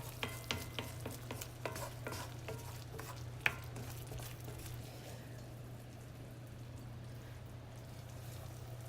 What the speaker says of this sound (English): you can see it's just starting to bubble slowly. I've got it on a low heat in the cast iron frying pan